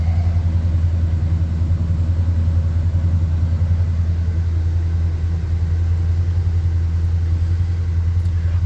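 A 1978 GMC C15 pickup truck with a carburetor engine idles steadily while warming up, a deep continuous low rumble that holds even and close throughout with no speech.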